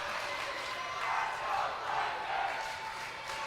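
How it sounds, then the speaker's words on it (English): The Flippin student section at a high school girls district championship basketball game cheers and chants, a sustained crowd roar with rhythmic swells of voices rising and falling across a few seconds. "As the Flippin student section starting to make some noise now."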